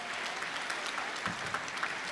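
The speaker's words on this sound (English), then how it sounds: "Big round of applause for Martina McMahon there." A crowd at the 2017 Wallball Nationals ladies final applauds as a player is clapped into the venue, a steady, fairly distant patter of many hands with a few sharper claps standing out.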